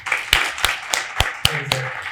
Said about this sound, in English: let's give a huge round of applause to Sami